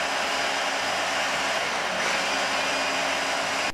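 A kitchen blender whirs steadily as it purees spinach with Parmesan and olive oil, a loud, even motor drone held close for several seconds before cutting off at the end.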